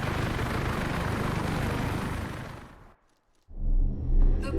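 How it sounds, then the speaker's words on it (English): Helicopter rotor roar from the video game Warface, a loud dense rumble for nearly three seconds that cuts out abruptly, followed by a brief silence and then a different heavy low-pitched mechanical drone. "Hurry to the chopper."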